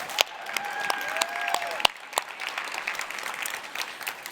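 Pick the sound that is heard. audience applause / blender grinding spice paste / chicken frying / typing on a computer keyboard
audience applause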